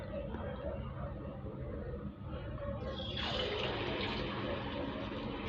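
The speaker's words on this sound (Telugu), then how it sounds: "నూనె కాగిందండి, ఇప్పుడు మనము బోండాలు వేసుకుందాం." Rava bonda batter dropped into hot oil in a kadai, a continuous dense sizzle that brightens and intensifies midway as more batter goes in, close and steady.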